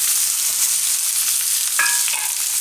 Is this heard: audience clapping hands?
no